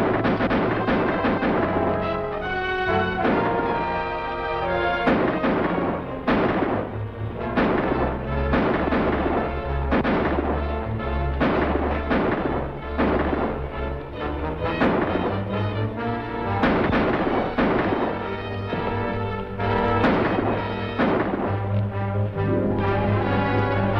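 Gunfire from a 1950 western film shootout starring Allan "Rocky" Lane: repeated loud shots ring out over a dense, continuous orchestral score, with no voices heard.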